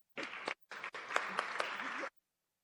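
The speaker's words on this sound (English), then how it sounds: "So want to just give her another round of applause for sharing her story with us" Applause at a Board of Aldermen meeting, heard as brief bursts of clapping from a small group, broken by short gaps and then stopping abruptly into silence.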